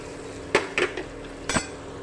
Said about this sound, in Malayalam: എന്നിട്ട് നമുക്കിത് ഇളക്കി കൊടുക്കാം.